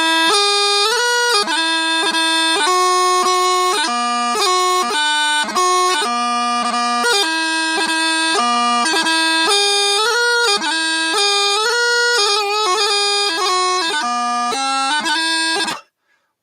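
Bagpipes play a lively dotted strathspey alone, bright and loud, with steady drones under the melody and crisp gracenotes between notes, ending abruptly.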